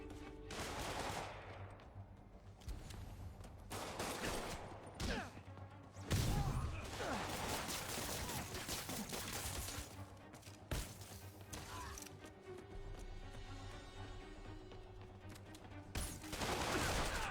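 Enemy gunfire in the Marvel's Spider-Man 2 video game: repeated gunshot and machine-gun-like bursts amid a busy game mix of crashes, thuds and music, with voices talking over parts of it.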